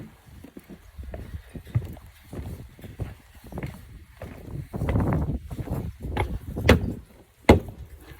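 Dull, hollow thumps on wooden boards repeat irregularly, like stomping footsteps on a porch, with a couple of sharper knocks near the end.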